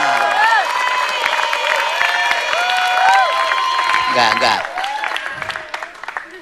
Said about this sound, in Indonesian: Wah, dapat tepuk tangan.